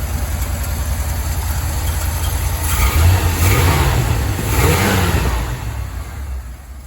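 A 360 V8 engine fitted with a swapped-in four-barrel Holley spread bore carburetor runs loud and close, a deep steady idle rising into a couple of smooth revs before settling back down.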